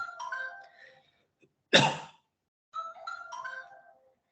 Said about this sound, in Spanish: acaba de sonar el teléfono